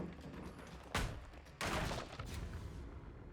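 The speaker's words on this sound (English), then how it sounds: "Flashbang, respect." Flashbang grenade bursts in the video game Dead by Daylight, with two sharp loud blasts about a second apart, each leaving a ringing, hissing wash that fades slowly.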